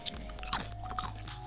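Someone bites into crunchy parsnip crisps and chews them, giving a few sharp crackles up close followed by softer rhythmic crunching, with no talking.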